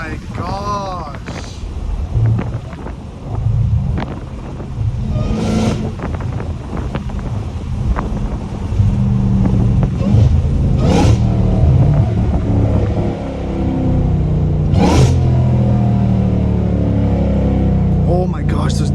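A catless Dodge Hellcat Redeye's exhaust rumbles loudly from inside the car, with revs and downshift pops over wind noise while someone talks excitedly throughout.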